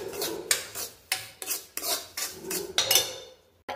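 Semolina roasted with dry fruits in a pan for pineapple sheera, a spatula scraping and stirring in close, rhythmic strokes, each gritty rasp rising and fading about every third of a second, with no talk.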